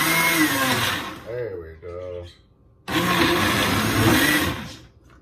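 A blender pulsing green smoothie ingredients in two loud bursts close by, with a brief gap between them where someone speaks.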